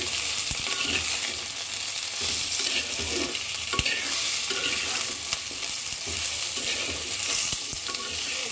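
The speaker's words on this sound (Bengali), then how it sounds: "ভেজে নেব" Vegetable stalks lightly frying in a pan, a loud continuous close-up sizzle with the regular scrape of a stirring utensil against the pan running throughout.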